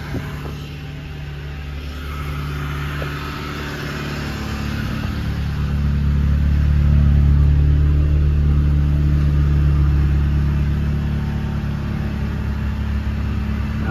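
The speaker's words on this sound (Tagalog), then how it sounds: "Ayun o, engine warm up." A Nissan B14 car's engine runs while warming up, a close, steady low drone that swells in loudness midway before settling, with no talking over it.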